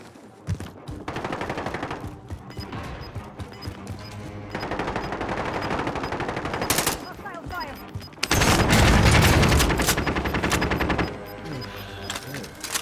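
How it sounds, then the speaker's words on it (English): Repeated bursts of automatic gunfire in Call of Duty: Modern Warfare, rapid rattling volleys close by with a heavier barrage near the end, mixed with game audio and voices. "Ops are shooting at me."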